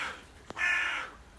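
A pet bird squawks after a neighbour climbs a ladder outside: one harsh, crow-like call, close and fairly loud, preceded by a brief tap against a steady background hiss.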